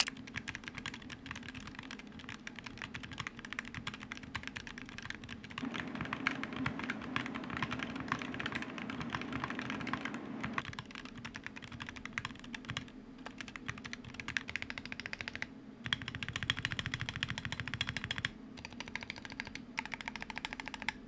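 Rapid typing on a Wooting 60HE+ mechanical keyboard clacks on continuously, dense bursts of keystrokes with occasional brief pauses, close and steady with no voices.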